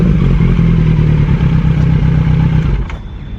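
A close Kawasaki Z900 motorcycle with a Mivv Mk3 carbon decat exhaust rumbles loudly with throaty exhaust pulses when revved, then drops off near the end as the revs settle back down.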